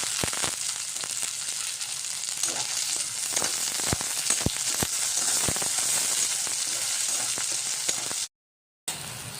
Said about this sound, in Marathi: हा आलू पण यामध्येच टाकायचा आहे, कारण आलू शिजला पाहिजे कांद्यामध्ये।